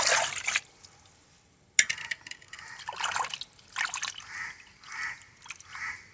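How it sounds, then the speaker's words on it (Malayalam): Water poured and splashing while parava fish is cleaned, several short bursts of trickling and sloshing separated by pauses, close and moderately loud with no speech. "ഒഴിക്കട്ടെ, വെള്ളം ഒഴിക്കട്ടെ."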